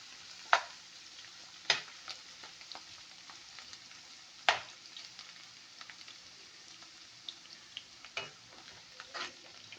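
Garlic frying in oil until golden brown, with a faint steady sizzle broken by a few sharp clicks of a utensil against the pan, close but quiet, with no talk.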